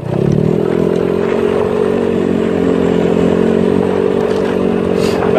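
A ZNEN ZN150T-9 scooter engine drones steadily while the rider cruises at around 40. The tone is loud, close and continuous, with a constant harmonic hum and rushing wind noise throughout.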